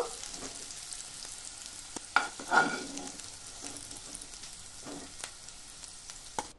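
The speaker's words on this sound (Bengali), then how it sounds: "আলুগুলোর মধ্যে পরিমাণ মতো হলুদ, একটু কাশ্মীরি লঙ্কার গুঁড়ো ও অল্প পরিমাণে লবণ দিয়ে লাল লাল করে ভেজে নেব" Potato pieces frying in oil with turmeric, Kashmiri chilli powder and salt, a steady close sizzle broken by a few scraping stirs and one louder clatter in the middle.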